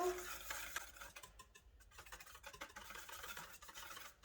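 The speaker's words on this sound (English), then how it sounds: "And in with our melted butter. We'll mix this together." A whisk scrapes and swirls melted butter into blueberry muffin batter in a bowl, producing faint, close, irregular clicking and stirring strokes.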